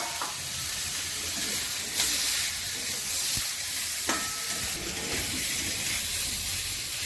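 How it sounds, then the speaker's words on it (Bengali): Fried pointed gourd sautéing in a pan with a soaked paste of cumin, coriander and chilli powder for a rohu fish curry, a steady close sizzle with occasional stirring scrapes and clinks throughout. "এবার ভাজা পটলগুলো দিচ্ছি, একসাথে কষিয়ে নেব।"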